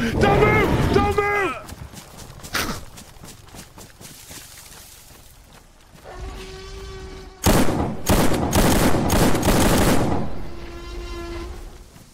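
Gunfire in the DayZ video game bursts out in loud clustered shots, with a dense volley in the second half, broken up by excited voices talking and shouting over it.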